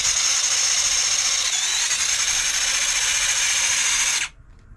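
Meus Racing Ripper V2 RC car fitted with a Furitek Cedar brushless motor whines steadily at high pitch as it climbs a slope, then cuts out abruptly near the end, leaving quiet.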